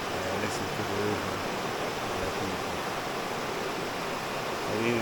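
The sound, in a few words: river flowing in Jamaica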